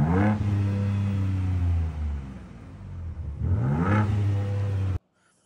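A Ford Ranger Raptor V6 3.0 twin-turbo gasoline engine with twin exhaust tips revs hard twice, each throttle blip rising sharply then settling into a loud, deep, close idle rumble before cutting off.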